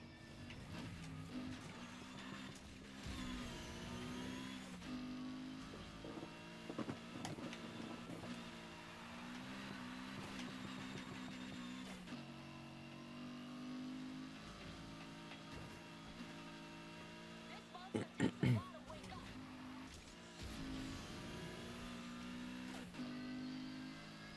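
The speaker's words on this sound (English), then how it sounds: "I love the sound of this engine" A steady car engine hum in the racing game Need for Speed Heat, with shifting pitch throughout, swelling and revving at moments, with a brief louder burst near the end.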